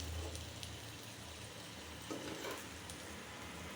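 Aloo paratha frying in oil in a pan for breakfast, a steady low sizzle running throughout with a few soft scrapes and shifts partway through, close and fairly quiet.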